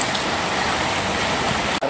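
Rainwater runs steadily in the open during a cyclone's heavy rain, a loud, continuous rushing wash of water that holds unbroken almost to the end before a brief dropout.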